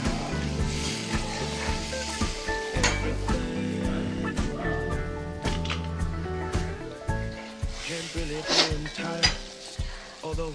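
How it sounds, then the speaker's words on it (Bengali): Frying spice masala for rohu fish curry, with water poured in, giving a loud continuous sizzle, bubbling and stirring scrapes against the pan, close up and without talking. "মশলাটা কষানো হয়ে গেছে, এবার অল্প একটু জল ঢেলে দিলাম।"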